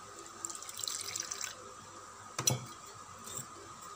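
Water is poured into a bowl of flour, salt, sugar and turmeric for a susiyam batter, giving a soft splashing trickle for about a second and a half, then a brief splash, in a quiet kitchen.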